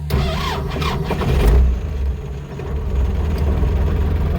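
A tractor engine cranks and catches, then settles into a steady, rumbling idle close by, during firewood work.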